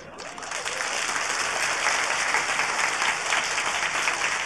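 A live audience applauds steadily, a dense sustained wash of clapping that swells in within the first half second and holds loud and even throughout.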